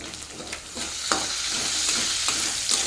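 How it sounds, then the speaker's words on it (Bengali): Chowmein noodles with egg being stir-fried in a hot pan on a home stove over high flame, a steady crackling sizzle broken by repeated scraping stirs every half second or so. "এখন সবগুলোকে মিশিয়ে ভেজে নেব।"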